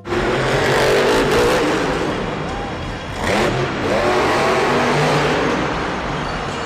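Toy monster truck with a loud, continuous engine-like revving roar that rises and falls over several seconds, with a brief dip midway, mixed with other toy vehicle noise.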